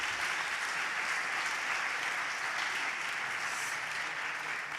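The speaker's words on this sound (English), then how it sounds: "a round of applause for our panelists and the discussion" An audience at an urban studies conference claps for the panelists after a discussion, a dense, steady round of applause that fills the room throughout.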